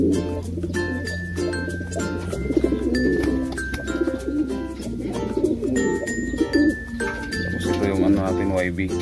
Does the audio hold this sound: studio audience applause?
no